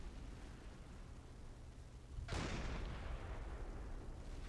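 A submarine deck gun in Silent Hunter 5 fires a high explosive round, one sharp loud boom that breaks from a low rumbling ambience and trails off into a lingering roar.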